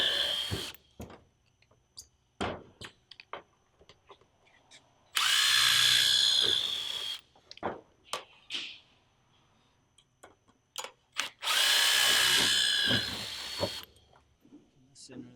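A power drill drives roofing screws into a roof batten in two loud bursts of a couple of seconds each, with sharp clicks and knocks between them and people talking nearby.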